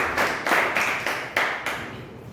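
Scattered, fairly slow claps from a small audience at a Toastmasters club script-reading contest meeting, a handful of distinct hand strikes at moderate distance that thin out and fade toward the end.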